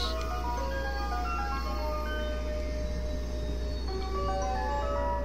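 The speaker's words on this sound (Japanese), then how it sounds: "さて、電車がやってきました。" An eight-car Kansai Airport and Kishuji rapid train pulls into Hineno station, with steady whining motor tones and low rumble holding throughout at moderate level, a melodic chime-like pattern drifting over the platform noise.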